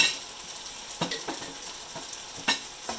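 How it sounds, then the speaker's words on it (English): Crushed jarred garlic sizzles softly in a pot while a utensil stirs it, with a few sharp scrapes and clinks against the metal over the steady frying hiss. "This is sauteing nicely."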